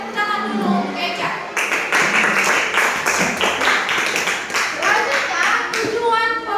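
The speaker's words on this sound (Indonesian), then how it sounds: "Oke, tepuk tangan dulu Eca" A classroom of students claps together in a lively burst of applause, many hands beating fast and irregular for several seconds before it tapers off, with voices mixed in.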